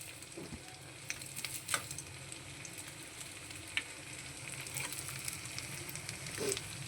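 Idli pieces fry in a hot pan with oil, a steady close crackling sizzle with a few sharp pops, no voices.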